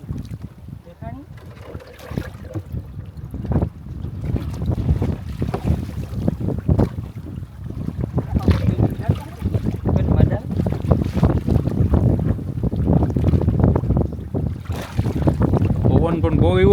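Strong wind at sea on a crab-fishing boat off Diu, with steady loud gusting and buffeting across the whole stretch and voices talking underneath.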